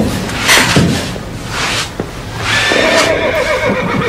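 A horse whinnies loudly and close by, a shaky rising-and-falling neigh, with a second whinny following after a brief pause.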